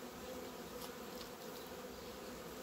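Honeybees buzz in an opened hive, a dense continuous hum of many insects, close and steady with no voices.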